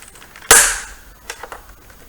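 A pry tool pops a plastic clip loose on the case of a Dell Inspiron 24 all-in-one, giving one sharp loud snap followed by a couple of fainter clicks.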